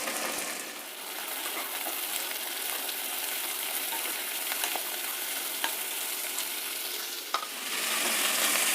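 Finely chopped beans and carrot fry in oil in a pan, giving a soft, continuous sizzle. A spoon stirs them with occasional scrapes and light clinks against the metal.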